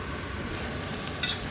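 Chicken noodle soup cooks in a pot with a steady, close sizzling hiss and one brief clink near the end; nobody speaks.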